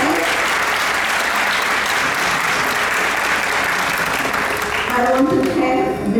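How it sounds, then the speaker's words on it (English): A concert audience at a Carnatic classical music event gives sustained, loud applause, a thick continuous roar of clapping with some voices and tonal sounds emerging toward the end. "I want to applaud this event."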